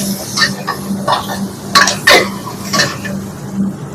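Vegetables with black pepper being stirred in a pan, with several distinct scraping strokes and clinks of a utensil against the pan over a low sizzle and steady hum, close and fairly loud.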